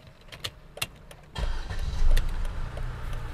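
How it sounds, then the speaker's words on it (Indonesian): A Mercedes A150 with a 1500 cc four-cylinder engine is started: a few soft clicks and taps, then the engine catches with a low rumble that swells briefly and settles into a steady idle. "Suara mesin Mercy 4 silinder."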